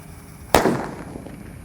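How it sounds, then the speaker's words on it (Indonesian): A single loud disco flower firework bursts with a sharp crack, then a crackling, fizzing tail fades over the next second. "Disco happy flower warna merah. Kita lihat reaksinya sudah menyala ini."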